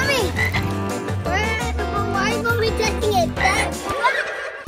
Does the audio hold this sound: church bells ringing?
no